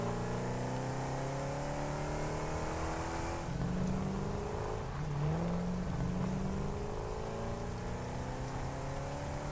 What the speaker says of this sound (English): Back on board our Explorer